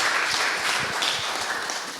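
Applause for the participants at a Sunday church service, a room of hands clapping steadily at moderate volume for a couple of seconds, dense and even with no talking over it.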